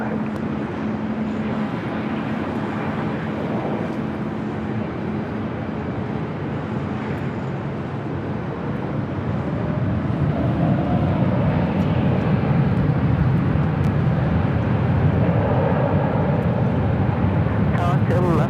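An Air France heavy jet takes off at LAX on a clear day, its engine roar building in the second half over a steady broadband rumble, with radio-style talk running throughout.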